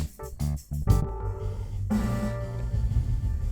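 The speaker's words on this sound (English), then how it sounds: "See, it's got a kind of echo thing going on there." Melt effect on its full-length delay buffer setting: choppy stuttering bursts at first, then a smeared, echoing wash that sustains and wavers at moderate level.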